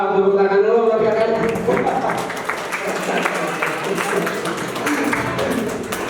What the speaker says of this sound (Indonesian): tepuk tangan dulu buat kakak